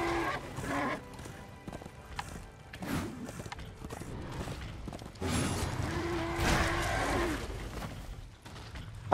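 Rhythmic clip-clop of hooves at a quick pace with a horse whinnying partway through, dense and game-like, no talking, from the video game Darksiders II Deathinitive Edition.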